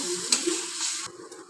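Egg sautéing in a pan for egg rice, a short burst of loud hissing sizzle with a spatula scrape, close up, fading quieter toward the end.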